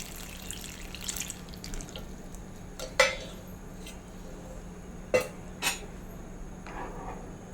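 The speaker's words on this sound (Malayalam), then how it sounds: "ഇനി നമ്മൾ നേരത്തെ ഉരുക്കി വെച്ചേക്കുന്ന ശർക്കര പാനി ഒഴിച്ചു കൊടുക്കാം. അരിച്ചൊഴിച്ചു കൊടുക്കണേ." Jaggery syrup, melted in advance, is poured through a strainer into a pot for a Kerala ripe-banana dish. It makes a faint, steady liquid trickle over a low hum, with a few sharp clinks from the utensils.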